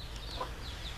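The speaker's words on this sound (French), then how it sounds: "Et on a les poules, voilà, on a les poules là-bas" Chickens in a permaculture vegetable garden give a few soft, scattered clucks over steady outdoor background noise, moderately close and fairly quiet.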